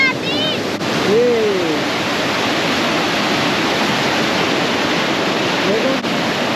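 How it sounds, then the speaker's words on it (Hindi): The Parvati River rushes past at Manikaran, producing a steady, loud broadband roar of flowing water that fills the scene without pause; a brief faint voice sounds near the start. "और ये है पार्वती नदी।"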